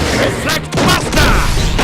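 Reflect Buster special shot in the soccer video game Inazuma Eleven Strikers, a loud burst of crashing, whooshing impact effects with shouted game voices over it.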